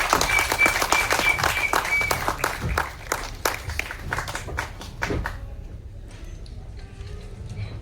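An audience at a film audio launch event claps and applauds for several seconds, dense at first and thinning to scattered claps before fading out.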